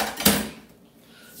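A metal pot clanks down into a kitchen sink with one sharp, close knock and a short metallic ring, after butternut squash soup with cream has been made, then a quiet room tail.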